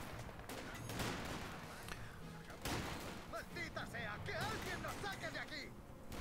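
Gunfire rattles through a Company of Heroes 2 multiplayer battle in bursts of rapid shots and scattered cracks. A person talks steadily over the fairly quiet game sound.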